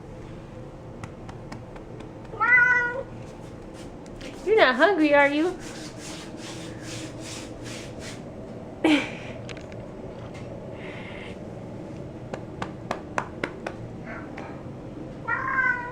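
A pet cat meows indoors in a few separate, drawn-out calls with long gaps between them, close by, while a person talks to it.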